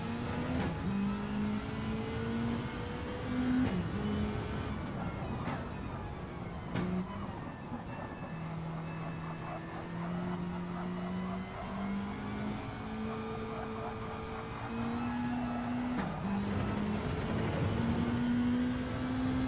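A racing car's engine in a video game lap on the Isle of Man course, steady droning revs rising and dipping through gear changes, loud and continuous with DRS use at high speed.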